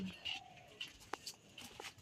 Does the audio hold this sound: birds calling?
yes